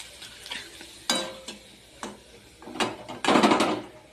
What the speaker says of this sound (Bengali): তেল গরম হয়ে গেছে আমার, এখন ভিজে নেবো এক এক করে।